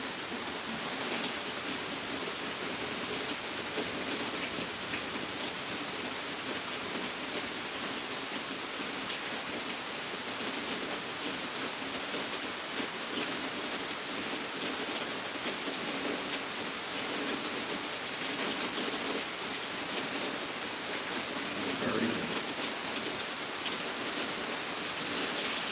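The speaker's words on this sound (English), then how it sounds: "Getting a bit of the old rain." Heavy rain pouring steadily outdoors, a dense, loud, unbroken hiss of drops on surfaces that holds without a pause throughout.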